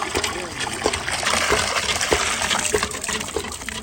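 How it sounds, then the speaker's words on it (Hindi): Clean water flows and splashes steadily near a mosque, a close, continuous trickling gush with small irregular splatters throughout. "साफ़ सुथरा पानी है"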